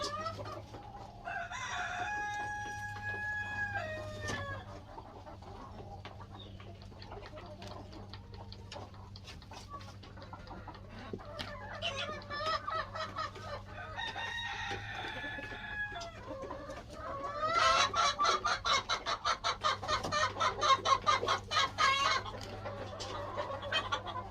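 Hens and roosters on a small farm cluck and squawk through a steady low hum, with a crowing burst and a rapid run of excited clucking near the end while eggs are gathered.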